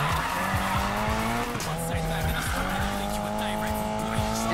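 Racing car tires squeal and skid in Need for Speed Payback, loud continuous engine whine with repeated revving gear shifts and sustained screeching, while people talk over the game.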